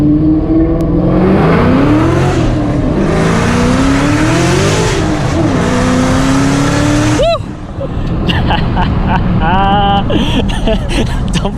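A 1200-horsepower Shelby GT500 Mustang roars loudly on an open road, its engine note rising and falling through hard acceleration and gear changes, with a brief dip before revving again as people talk over it.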